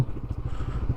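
A motorcycle idling nearby as it is brought to a stop for parking, a rapid low chugging engine putter, steady and fairly close, with no one speaking.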